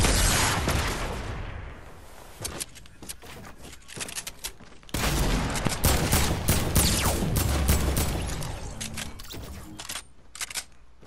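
Heavy assault rifle fire in the video game Fortnite rattles out in rapid, loud bursts that come in clusters separated by short pauses.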